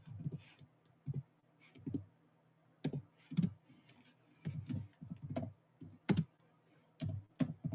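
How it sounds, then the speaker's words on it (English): Quick bursts of keystrokes on a computer keyboard, clustered clicks separated by short pauses, close and clear with no talking. "I'm gonna type in real quick"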